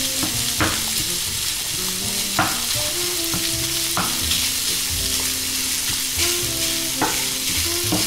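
Sausages sizzling steadily in a hot frying pan for a quick sausage and sweetcorn penne dinner, with a constant loud frying hiss broken by occasional stirring scrapes and clicks, no talking.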